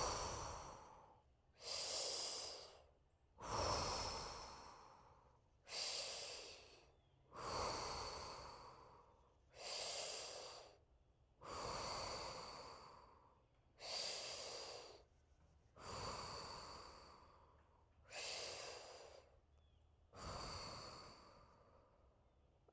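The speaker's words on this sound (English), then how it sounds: "I just did mouth breathing there, which is totally fine." Slow breathing exercise with mouth breathing: about eleven long, audible breaths, each a rushing exhale or inhale separated by short pauses, close and steady in rhythm, no speech.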